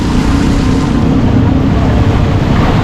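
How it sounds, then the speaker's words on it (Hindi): Heavy rain in Karachi pours in a dense, loud, continuous hiss with wind-like rumble, unbroken and close, with no voices. "बारिश बहुत तेज़ हो रही है"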